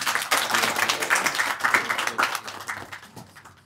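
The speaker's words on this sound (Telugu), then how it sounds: "సో ప్లీజ్ ఇంకొకసారి క్లాప్స్ ఫర్ దెమ్." A live audience applauds in a brisk, dense patter of many hands, fading slightly toward the end.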